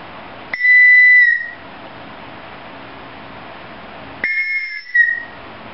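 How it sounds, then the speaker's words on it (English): A TOPS Knives survival whistle sounds twice indoors, piercing and loud. The first blast is sustained for about a second and the second is shorter and broken, echoing off nearby walls. "That's the Topps Knives Survival Whistle, available at Dragon Impact."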